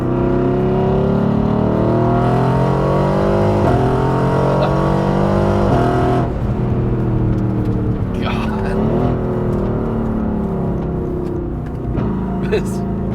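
A widebody Mercedes-AMG GT engine drops through downshifts on back roads, with loud revving blips and falling engine tones up close, cabin voices talking over parts of it.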